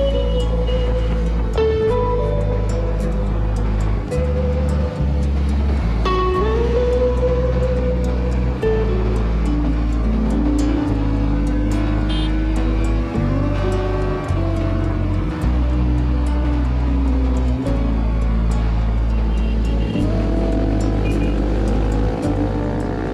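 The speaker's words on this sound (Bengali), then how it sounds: "দুটো বাইক এগিয়ে গেল আমাদের" Motorcycles ride along an open road during an Independence Day group ride, their engines droning loudly and continuously, with pitch rising and shifting as bikes accelerate and overtake, under steady wind rush.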